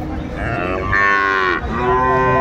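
Friesian calves and cattle at a busy livestock market mooing loudly and close, one long drawn-out bellow followed by another rising call with no talk over it.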